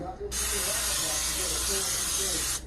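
Cooking oil sprayed over sardines, onions and potatoes in a short continuous hiss lasting a couple of seconds, close and fairly loud, starting and stopping abruptly.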